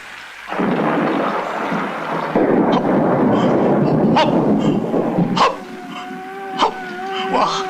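A dog barks several times at close range, sharp separate barks over a loud rumbling roar like heavy thunder or rain.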